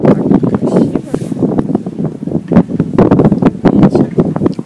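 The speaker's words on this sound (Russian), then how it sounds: "Ветер." Wind buffets a microphone outdoors near Venice, Italy, as a steady low rumble that surges and drops throughout, with a person talking over it.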